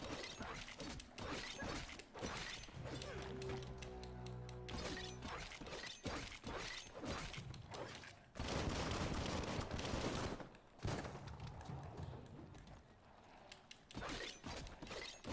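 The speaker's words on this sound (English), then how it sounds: "It takes a while to reload, I don't like that." Weapon reloading in the video game Biomutant, a run of mechanical clicks and metallic clatter layered into dense, loud game action with gunfire-like bursts throughout.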